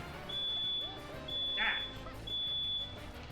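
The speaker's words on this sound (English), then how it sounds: "smoke alarm just beeped in my house for a moment" Inside a house, a smoke alarm gives three steady high electronic beeps about a second apart, each held for most of a second, over low background noise and faint game sounds.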